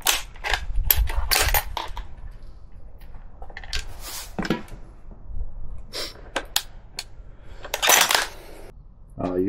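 Rifle shots with a Winchester .308 while sighting in at a target on an outdoor range, several sharp bangs and metallic impacts spaced a second or two apart, loud and close with quiet gaps between.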